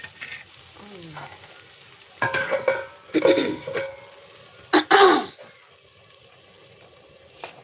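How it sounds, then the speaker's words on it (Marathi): Turmeric and salt fry in a pan on a village kitchen stove, with soft sizzling and scraping stirs that come in a few louder bursts between quieter stretches. A throat clear or cough is heard. "हळद आणि मीठ चांगलं परतून घेणार आहोत आपण"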